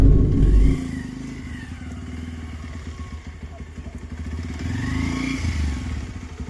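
A motorcycle engine putters steadily close by after a brief loud burst, its rapid thumping pulse swelling slightly near the end.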